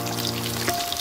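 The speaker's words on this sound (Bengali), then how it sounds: "আর এখানে মাছগুলো ভাজা হয়ে গেছে" Fish fry in hot oil with a steady crackling sizzle, close and continuous, with sharp spattering pops throughout and no talk.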